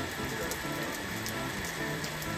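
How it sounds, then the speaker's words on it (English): Steady coastal rain pounding at Brookgreen Gardens, a constant dense hiss with no pauses and no voices. "coastal weather, they tend to have coastal rain"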